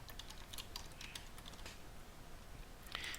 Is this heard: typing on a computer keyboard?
yes